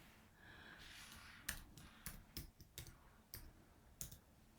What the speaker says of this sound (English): I'm just going to type in the word orange